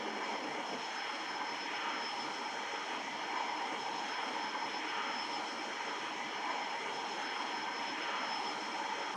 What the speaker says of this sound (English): I am in a Cessna 172, very common training aircraft.